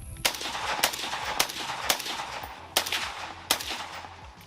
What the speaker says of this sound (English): Fire the gun.